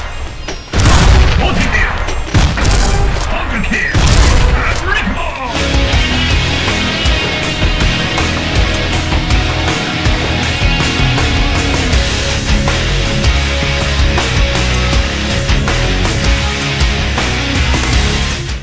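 Lover Dream guns in the XSHOT video game fire in sharp bursts of booms and crashing blasts. Dense, loud layers of gunfire and explosions follow, running on without a break over a busy background.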